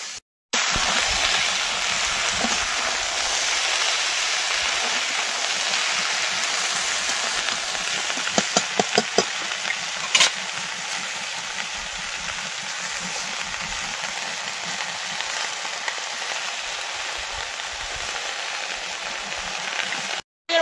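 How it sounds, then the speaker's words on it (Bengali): Taro leaves are stir-fried in a pan with onion, garlic and chili, giving a steady, close, hissing sizzle that carries on without a break, with a few faint clicks partway through. "এবার কচু শাক দিয়ে দেবো"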